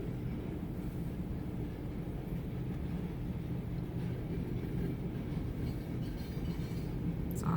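A freight train of box cars rolling past in Moorestown, a steady low rumble and clatter of wheels on rail, fairly distant and continuous, with no voices.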